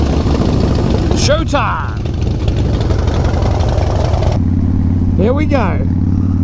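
A 2017 Harley-Davidson Dyna Wide Glide motorcycle engine idles with a steady, lumpy rumble, then revs twice in rising and falling sweeps, heard up close while someone speaks over it.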